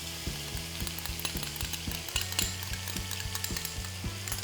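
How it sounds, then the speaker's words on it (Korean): Meat and watermelon rind stir-fried in a pan, a steady sizzle with a rhythmic series of tapping scrapes from stirring, close and moderately quiet, without any voices. "물과 기름이 있는데 빼고 고기를 넣고 자 같이 볶아 주시고요."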